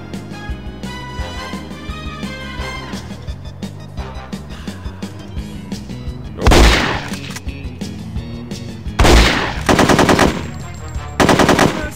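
Rapid machine-gun bursts fire through a gate in the video game NOLF 2, loud and close, with a long stretch of muffled shots giving way to several sharp, dense volleys.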